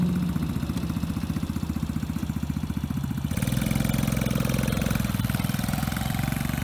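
The engine of a Tao GK110 go-kart chugs at a steady, even idle, close and fairly loud, then revs up partway through and holds a higher, fuller drone until the end.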